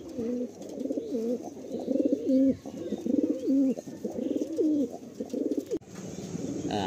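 Pigeons kept for sale in Kolkata, among them a black male and a female, coo in close, repeated throaty phrases, and the calls come in several bursts with short pauses between them.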